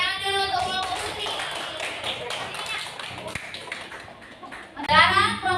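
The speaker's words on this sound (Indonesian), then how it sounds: "Tepuk tangan dulu" Schoolchildren in an elementary classroom clap for a presenting group, a dense patter of small hands mixed with children's voices and chatter, swelling again loudly near the end.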